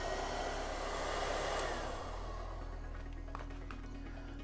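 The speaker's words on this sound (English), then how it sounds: "I probably should have just done that little area first and then blow dried it." A hair dryer blows steadily on freshly painted Boba Fett armor, a loud continuous whooshing drone close to the mic that lowers slightly in pitch midway, with no talking.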